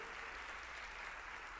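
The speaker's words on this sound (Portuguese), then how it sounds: "para a igreja dar um aplauso por mais essa vitória" A church congregation gives a short burst of applause, a steady wash of many hands clapping at a moderate distance.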